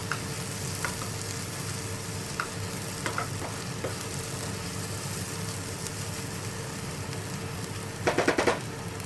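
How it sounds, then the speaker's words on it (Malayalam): Onions sautéing in a pan until brown for a Kerala-style egg curry, a steady low sizzle with occasional spatula scrapes and a short burst of louder stirring near the end. "അപ്പോൾ ഇത് കുറച്ച് സമയമെടുത്ത് നമുക്ക് വഴറ്റിയെടുക്കാം."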